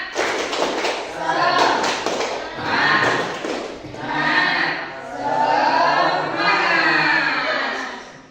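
Rhythmic tepuk semangat spirit clap by a group, with clustered claps and taps between phrases of voices chanting together, loud and near, repeating in waves.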